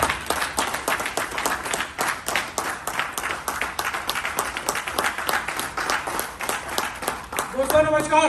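A seminar audience gives rhythmic, energetic applause to welcome the achievers, claps landing in a steady beat, with music or a voice rising at the very end.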